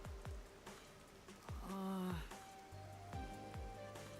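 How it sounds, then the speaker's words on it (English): Steady rain hiss from the video game Rain Code, a blood-red downpour, running under game music with low thumping hits and held tones, with no talk. "Blood red rain."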